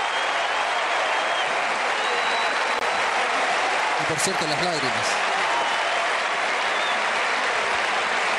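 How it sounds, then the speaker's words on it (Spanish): A Colombian football crowd applauding in a stadium during a World Cup qualifier against Chile, a broad, constant roar of clapping and crowd noise, with a commentator talking over it and a brief whistle-like tone midway. "Mira cómo aplaude el público colombiano"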